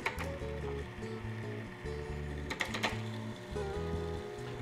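Food processor blade spinning tahini and lemon juice into a paste for hummus, a steady close mechanical whir with rhythmic pulsing tones and a brief clatter midway, no talk.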